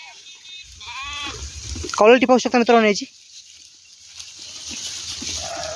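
A Renapuri and local Gavran crossbred sheep gives one loud, wavering bleat, close by, while someone talks before and after it.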